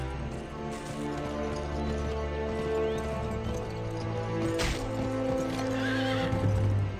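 A video game horse whinnies over a steady background hum and music, with hooves clopping intermittently.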